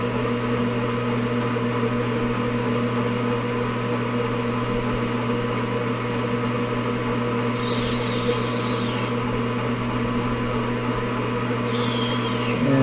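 A lathe turning at about 360 RPM while facing a plastic tube for a pop bottle rocket launch tube gives a steady droning motor hum, with brief higher scraping bursts as the tool cuts.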